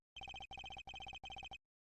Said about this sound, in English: Oh, looks like Prosecutor Gavin is on the phone.